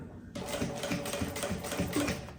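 A sewing machine starts abruptly and runs fast, close and steady, stitching the seam of a quilted puffer tote bag, with a rapid rhythmic needle clatter throughout.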